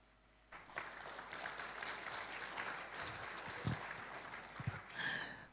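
An audience at a Finance Ministry anti-corruption event gives hesitant applause, a modest and fairly quiet spread of clapping that holds steady for several seconds and then fades.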